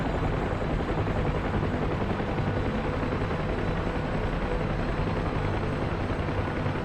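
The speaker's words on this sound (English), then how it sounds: "You can see how quickly you lose your ability to handle the helicopters like this." Helicopter flying in the DCS flight simulator game, a constant loud rotor and turbine drone that stays even and unbroken throughout.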